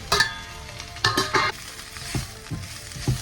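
Vegetables frying in light refined sesame oil for seafood nasi goreng, a steady close sizzle broken by several sharp stirring scrapes and bursts of hiss, no voices.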